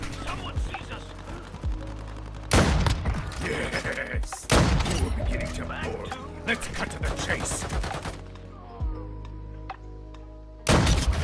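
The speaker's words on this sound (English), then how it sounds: "Beautiful sniping again." Sniper rifle shots ring out in the mobile shooter Warzone Mobile, several loud, sharp cracks spaced seconds apart over busy game noise and rumble.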